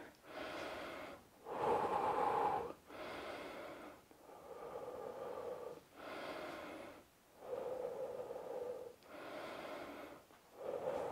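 Heavy, rhythmic breathing before a set of close-grip push-ups in a home workout, about nine loud, close breaths alternating in regular cycles, with no talk.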